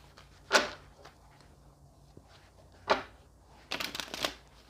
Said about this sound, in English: I shuffle them a couple more times.